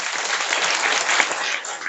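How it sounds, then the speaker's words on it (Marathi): Loud, dense audience applause at a Dnyaneshwari parayan ceremony in Malewadi, a steady wash of many hands clapping together for two seconds with no speech over it. "त्या जुन्या मंडळींच्या करता एकदा जोरदार टाळ्या वाजवा."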